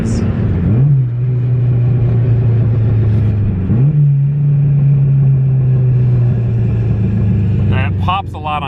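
A car engine revs up twice, each time swelling into a loud, steady drone as it accelerates, heard from inside the vehicle with a rumbling, constant low tone.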